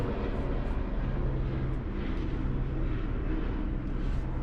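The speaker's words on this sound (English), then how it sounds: "One moment, my helicopter passes." A helicopter passes overhead, a loud, steady roar that dominates, a broad rumbling drone holding constant without fading.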